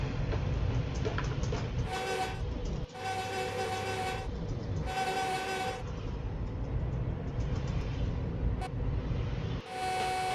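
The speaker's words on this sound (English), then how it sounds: "Huh, I'm inside my train." Train running in Train Sim World 5, heard from inside the cab: a steady rumbling roll runs throughout while repeated horn blasts sound in bursts, loud and close, with no talking.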